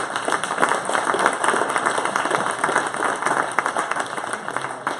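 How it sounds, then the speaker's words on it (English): A conference audience claps for the panelists at the close of an industrial IoT panel, a steady mid-level patter of many hands lasting the full five seconds. "please give a round of applause to our panelists"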